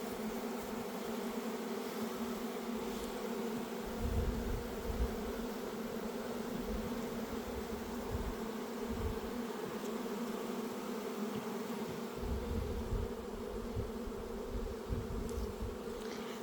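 A steady, dense buzz of many honeybees swarming close by around a hive, a continuous droning hum with no talk.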